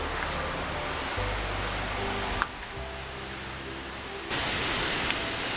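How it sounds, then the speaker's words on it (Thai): Khlong Wang Chao waterfall in a national park sends out a steady hiss of falling water that shifts in level as the position changes, with no talk. "นี่คือตัวน้ำตกคลองวังเจ้านะครับ"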